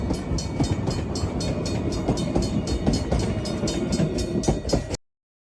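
A Rio Grande 340 steam train rumbles past close by, a steady loud clatter of wheels on rail with rhythmic clicks running throughout before it cuts off.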